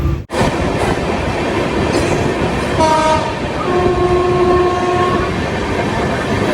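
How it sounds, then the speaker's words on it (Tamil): A train rumbles steadily past near Marina Beach, Chennai, with a loud horn sounding in sustained tones partway through over the continuous rolling noise. "என்னம்மா ட்ரெயின் போயினுக்குதா"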